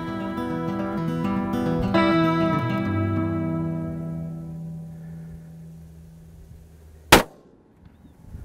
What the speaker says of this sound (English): Nice shot, watch him.